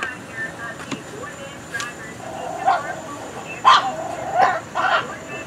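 At a flea market in Ripley, Mississippi, dogs give short yips and barks at a moderate distance, several scattered bursts over a low background murmur.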